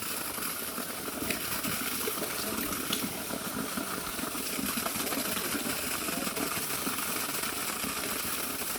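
Small mountain spring water spout flowing along a hiking trail, a continuous even splashing rush of falling water, moderately close and steady throughout.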